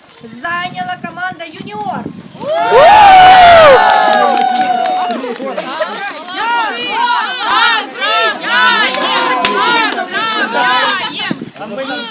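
A crowd at an outdoor ski picnic breaks into a loud burst of cheering and applause, which then fades under a voice speaking.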